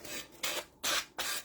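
A sanding brick rasps against a surface in four distinct back-and-forth strokes, each a close, dry scraping burst separated by short pauses, with no talking.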